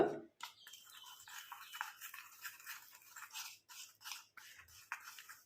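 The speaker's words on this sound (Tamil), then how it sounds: "எங்கெங்கெல்லாம் உங்களுக்கு நிறைய முடிகள் தெரியுதோ அந்த இடத்துல நல்லா டச்சப் பண்ணி விட்டுக்கலாம் ப்ரஷ் வச்சு டச்சப் பண்ணிக்கோங்க" A brush dabs and strokes homemade hair dye onto hair, making soft, close, bristly scratching in short repeated strokes. The sound is quiet but clear, with no talking.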